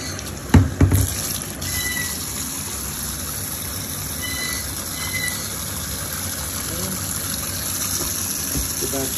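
Hot water running steadily from a kitchen sink tap while a K&N air filter is washed, a continuous even splashing rush, with a few sharp clatters near the start.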